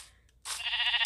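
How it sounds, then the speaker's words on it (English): A Minecraft sheep gives one sustained, bright bleat that starts abruptly after a near-silent moment and holds steady to the end, moderately loud with only faint game ambience underneath. "Wait, is this a sheep?"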